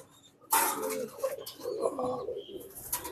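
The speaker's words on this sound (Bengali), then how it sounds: "এই যে আরেকটা কবুতর" Pigeons in a loft, with a close, soft throaty cooing that starts after a brief silence and carries on in low murmuring bursts, over faint background rustle.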